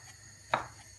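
A knife strikes a cutting board once in a single crisp chop while slicing strips of bacon for spaghetti carbonara, close and fairly quiet, with no talk.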